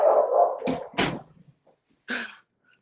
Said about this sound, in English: Can you hear that dog barking?